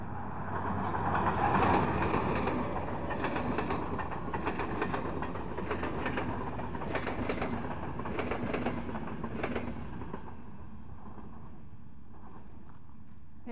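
A Hörgő diesel locomotive hauling an express train rolls through Alsóörs railway station toward Balatonfüred, a loud, steady rumble of wheels and engine throughout that eases off toward the end, with no talking.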